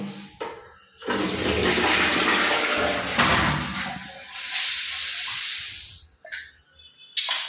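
A toilet flushing in a home bathroom with new fittings: a loud rushing whoosh of water that holds steady for several seconds, then drains away and tapers off, with a short clunk near the end.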